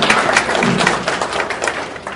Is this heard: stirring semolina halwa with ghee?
no